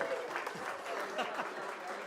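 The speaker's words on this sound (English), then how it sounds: "Round of applause for Backbenders Heaven." Studio audience applauding at the opening of a television show, a dense, fairly quiet patter of clapping hands that stays even throughout.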